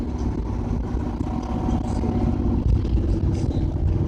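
A car engine pulls uphill in third gear on Jubilee Way in Dover at about 2,200 rpm, a steady, fairly loud drone from inside the cabin with road roar underneath.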